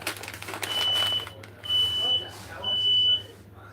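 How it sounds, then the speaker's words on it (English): A home smoke alarm sounds three long, piercing beeps in a row with short gaps between, loud and close over a low steady hum. "Smoke alarm."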